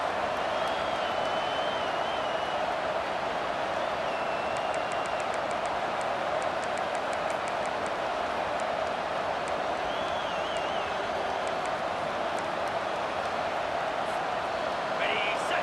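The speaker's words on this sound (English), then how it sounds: "This crowd busting the decibel meter and trying to will a fourth down stop." Video-game crowd noise from NCAA 25 college football, Michigan versus Penn State, a dense steady roar of a stadium throng cheering for a fourth-down stop, continuous and loud throughout with a commentator talking over it.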